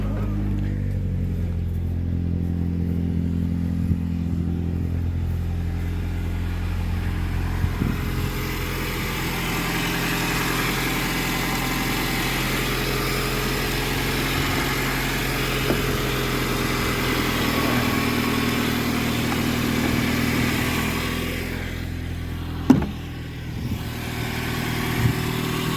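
A 2002 Saturn SC2 engine runs steadily at idle after starting, a continuous low hum with a few faint clicks and a brief sharper knock near the end.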